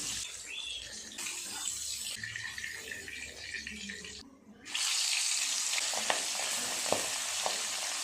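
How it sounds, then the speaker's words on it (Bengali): Hilsa fish pieces fry in oil with a steady, close sizzle, a short pause midway as pieces are moved, then a louder, denser crackle with a few light knocks. "তুলে নিয়ে যে মাছগুলো আছে ওগুলো একইভাবে ভেজে নেব"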